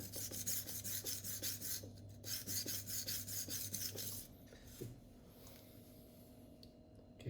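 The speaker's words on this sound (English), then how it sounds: "freehand sharpening is putting your knife on an angle and move back and forth, back and forth" A knife is drawn freehand back and forth across a sharpening stone, a close rhythmic rasping stroke repeated about a dozen times at an even pace, then a few quieter, slower scrapes before stopping.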